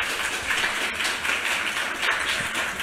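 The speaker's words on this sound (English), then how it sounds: "I would like to invite you to give a round of applause to our panelists" An audience applauding panelists after a discussion at a literary event, a steady wash of many hands clapping, fairly close and sustained with no talk.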